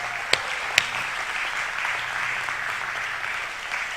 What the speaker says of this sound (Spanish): vamos a dar un aplauso a todas las mujeres que cumplen esa función.